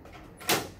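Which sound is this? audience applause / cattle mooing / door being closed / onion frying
door being closed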